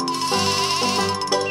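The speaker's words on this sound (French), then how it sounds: "un mouton" A sheep bleats in a steady, wavering cry that carries on for over a second, loud and close, with music playing underneath.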